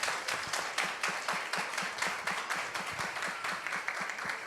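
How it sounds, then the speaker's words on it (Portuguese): A seminar audience gives moderately quiet, rhythmic applause, with scattered claps repeating evenly throughout. "Queria pedir uma salva de palmas para ela."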